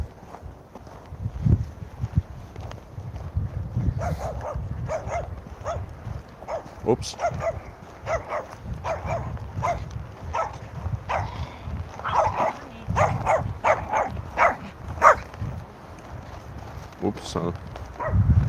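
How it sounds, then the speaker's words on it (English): Several dogs bark repeatedly in sharp, uneven bursts outdoors in Helsinki, Finland, some close and loud, over steady wind rumble, with a person briefly speaking. "Angry dogs."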